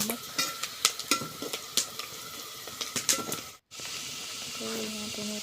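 Onions frying in a pan, browning lightly, give a steady sizzle broken by sharp clatters of a spoon stirring against the pan. A brief dropout is followed by a softer, even sizzle with a faint tone.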